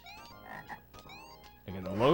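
Frogs croak in The Berenstain Bears' Camping Adventure on Sega Genesis, a string of chirpy synthesized game calls over background game music, swelling louder near the end.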